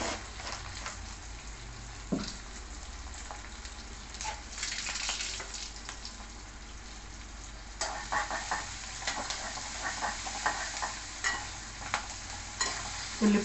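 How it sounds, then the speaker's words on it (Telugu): Chopped onions and green chillies sizzle softly in a pan for a rice-flour upma, a steady low crackle broken by occasional scraping stirs and clinks, moderately quiet and close, with no voices. "ఉల్లిపాయ చక్కగా పచ్చిమిర్చి ఉల్లిపాయ మగ్గాలి."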